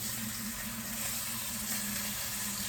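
Chicken skin rendering its fat in a soup pot for a chicken verde stew gives a steady, even sizzle and hiss throughout, with no distinct pops or talk over it.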